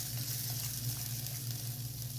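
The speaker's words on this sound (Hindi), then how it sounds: "थोड़ा सा और रोस्ट करती हूँ।" Masala roasting in half a cup of oil for a white potato and egg qorma, giving a steady, close sizzle with a low hum underneath, continuous and even throughout with no talking.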